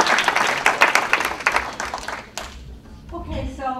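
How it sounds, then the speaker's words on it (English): Guests at a 2012 dinner event applaud with brisk, close clapping that fades after a couple of seconds, and a voice begins speaking as it dies away. "We also got a round of applause for great food."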